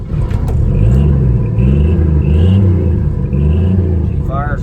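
A 1956 Chevy 210 engine idles loud and close, a throbbing low rumble with slight rises in revs, and a brief high squeak near the end.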